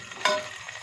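Chillies and tomatoes hit a hot pan with a sudden sharp sizzle that swells briefly and then settles into a softer steady frying hiss, fairly quiet and close.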